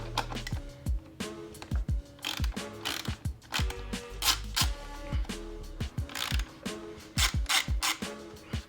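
A ratchet tool removes screws from the plastic fairing of a motorcycle, making quick clicking runs in short repeated bursts, close and fairly loud, with no talk.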